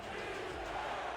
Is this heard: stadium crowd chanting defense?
yes